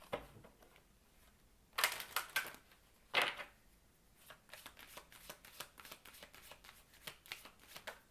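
Playing cards are riffled and shuffled in two quick bursts, then flipped and laid down one by one in a light, steady patter of soft snaps, close and clear with no talking.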